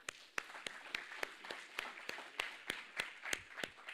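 Sparse, distant clapping from a small crowd at a startup competition final in Malaysia, a steady patter of individual hand claps that continues evenly throughout.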